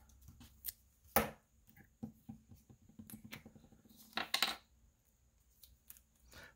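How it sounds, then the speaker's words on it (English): Washi tape is handled and cut with scissors in a quiet room, a few crisp snips and light taps scattered across the moment, close and faint. "Let's cut a piece of washi."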